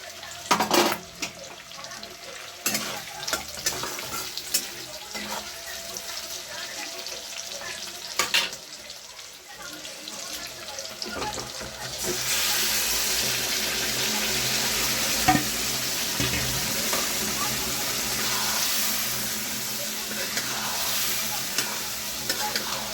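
Marinated meat in a pan, with stirring and scraping clatter and intermittent water sounds for the first half, then a loud, steady sizzle of frying that carries through to the end.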